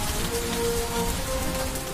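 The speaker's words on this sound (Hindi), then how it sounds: "जमकर बारिश हो रही है।" Heavy rain pouring in Delhi, a dense steady hiss of drops on surfaces, close and loud throughout.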